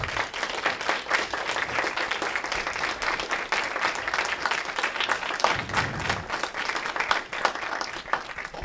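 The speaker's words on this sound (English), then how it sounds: "Let's give a round of applause" An audience at a high school robotics awards ceremony breaks into sustained applause, steady dense clapping filling the whole stretch with a few brief voices and cheers mixed in.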